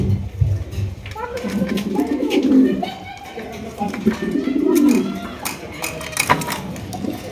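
A breeding pair of Tiger King pigeons coos in a loft, with deep, rolling calls repeating in bursts close by.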